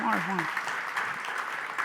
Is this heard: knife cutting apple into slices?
no